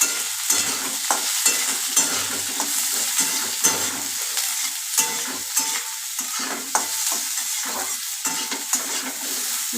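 Onion, garlic and green chillies fry in a pan while being stirred, a soft steady sizzle broken by regular scraping and clinking strokes of the spatula, quiet and close.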